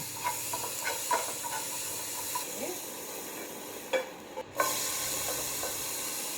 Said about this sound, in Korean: 그러니까 조금 살아있을 정도로 볶아주세요.